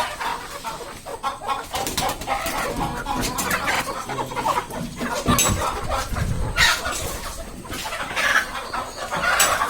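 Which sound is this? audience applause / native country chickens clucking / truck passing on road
native country chickens clucking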